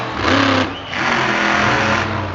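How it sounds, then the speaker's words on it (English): A monster truck engine revs loudly at a live monster truck show, a thick, buzzing roar that dips briefly and then surges back for a couple of seconds. "I hear another truck"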